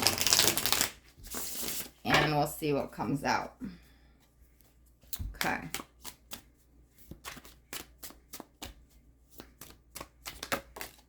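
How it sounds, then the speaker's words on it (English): Crisp riffling bursts of cards being shuffled, a rapid flurry early on then a run of sharp individual snaps, with a person talking briefly at the start. "let me give this deck just one more quick shuffle"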